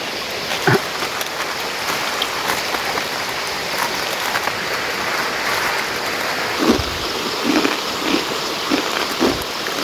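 Steady rain falls in a village during the monsoon, a dense close hiss of drops hitting surfaces, with occasional louder drips and splashes standing out, no talking.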